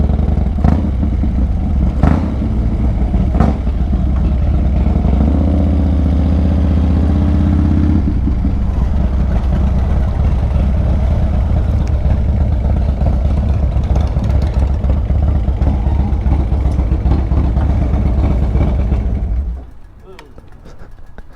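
A Harley motorcycle engine roars loud and close during street riding, a heavy steady rumble that swells through the first eight seconds, holds, then cuts away near the end.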